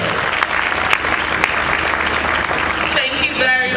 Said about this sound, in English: That's not a round of applause for nation builders.